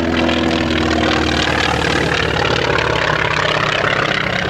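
Propeller airplane performing an aerobatic smoke display at a military base air show, its engine droning loud and steady throughout with a rough, buzzing tone and no talk.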